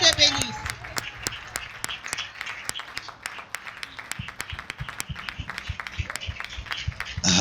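Church congregation applauding to welcome a preacher to the pulpit, with sharp, scattered claps over a busy hall, alongside speech and some rhythmic tapping.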